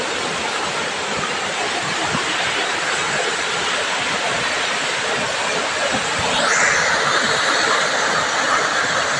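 The lower pool of Tad Yueang waterfall in Laos roars loudly and continuously, a dense, close rush of falling water that swells slightly near the end, with no talking.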